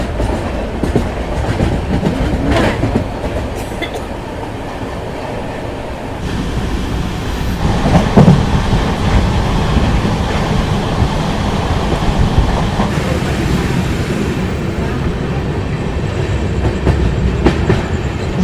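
A passenger train on the run to Guwahati Junction roars along the rails, a loud, steady rumble with clickety-clack and occasional sharper knocks sustained from start to finish.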